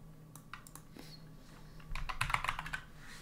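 Typing on a computer keyboard while setting up a remote AWS server, with scattered single keystrokes at first, then a faster, louder burst of clicking close to the microphone.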